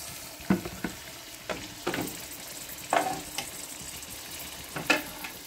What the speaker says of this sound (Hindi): प्याज हमारे फ्राई थोड़े हो चुके हैं हम इसमें साथ ही टमाटर डालेंगे साथ ही हरी मिर्ची डालेंगे